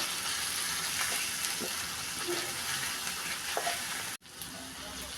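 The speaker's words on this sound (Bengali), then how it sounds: "তো সরিষা বাটা দিয়ে দিলাম, এবার নেড়ে রান্না করে নিব।" Okra frying with mustard paste in a pan, a continuous close sizzle with occasional stirring scrapes, no voices, briefly cutting out near the end.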